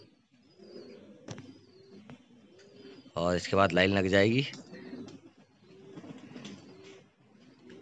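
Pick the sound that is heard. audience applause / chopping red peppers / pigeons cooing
pigeons cooing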